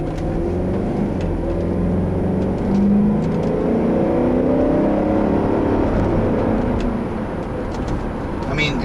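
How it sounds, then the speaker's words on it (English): A 2005 Range Rover with a BMW V8 pulls hard under acceleration, a steady loud engine drone and road roar from inside the cabin with a brief swell in revs. "can hear that BMW V8 just really accelerates this car phenomenally for just how big it is"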